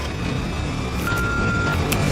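A single steady electronic tone from an answering machine, lasting under a second, sounds clearly over a low background hum.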